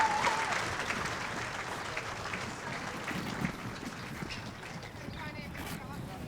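Crowd applauding the podium finishers of the 66th New Zealand Grand Prix, a 2021 Toyota Racing Series event, with steady outdoor clapping and cheering under a commentator's voice for the whole stretch.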